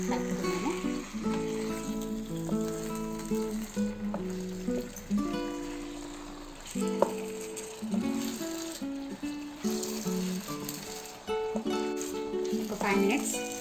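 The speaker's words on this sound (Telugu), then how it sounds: "చికెన్ వేసేసుకుని కలుపుకున్నాము." Chicken pieces sizzle in a pot for Dindigul-style biryani and are stirred, giving steady frying crackle broken by metallic scraping and clinks, with music playing underneath.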